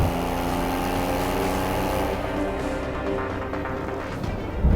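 A Porsche 911 GTS engine in Sport Plus mode roars steadily at high revs after a downshift, its pitch holding then dropping slightly as the throttle eases, loud and close.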